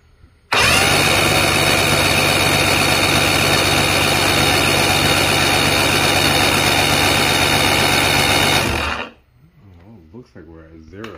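A Mercury outboard motor fires up and idles at a steady, loud rumble for about eight seconds during idle timing adjustment, then cuts off abruptly, leaving faint background noise.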